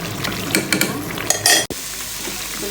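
Fish and potatoes stir-fried together in a pan, with scraping and clinking of a utensil against the pan over a low sizzle, a few louder stirring bursts, then a brief cut and quieter frying.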